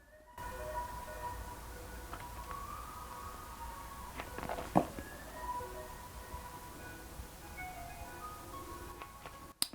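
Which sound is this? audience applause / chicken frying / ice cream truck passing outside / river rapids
ice cream truck passing outside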